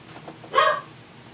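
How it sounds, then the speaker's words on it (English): A dog gives a single short bark somewhere off to the side, moderately loud and brief, against quiet room tone. "barking over there"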